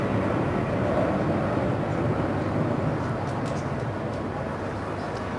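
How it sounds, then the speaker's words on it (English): Tornado jets and Sentinel and Airseeker reconnaissance aircraft fly past in the Queen's Birthday flypast, a broad, steady roar of distant jet engines with no clear peak. "Tornadoes accompanying the 2 reconnaissance aircraft, the Sentinel and the Air Seeker."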